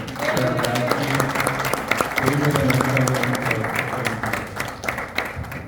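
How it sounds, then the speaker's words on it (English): A crowd at a neighborhood board candidate forum in Kaneohe breaks into a steady round of applause, dense clapping sustained throughout with a murmur of voices beneath it. "how about a nice round of applause for"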